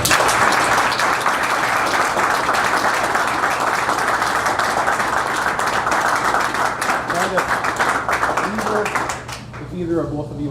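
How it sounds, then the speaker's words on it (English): Sustained audience applause at a ceremony honoring citizen heroes who helped save a woman, dense steady clapping filling the room for about nine seconds before thinning out, with a few voices emerging at the end. "Let's give a round of applause."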